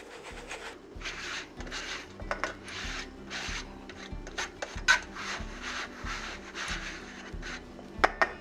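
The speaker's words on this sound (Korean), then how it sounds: "계량한 찹쌀가루는 중간체에 한번 내려주세요." Glutinous rice flour rubbed through a medium sieve for injeolmi, a steady rhythmic scraping and shuffling with regular strokes about every half second, close and fairly quiet, no voices.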